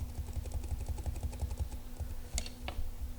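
Fast, close typing on a computer keyboard, a run of light rapid key clicks with a couple of sharper taps near the end, over a faint low hum.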